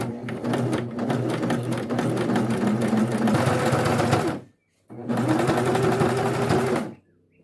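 A cover stitch machine sews down a jacket seam in two long, fast, steady runs separated by a short pause, its rapid needle chatter close and loud before stopping.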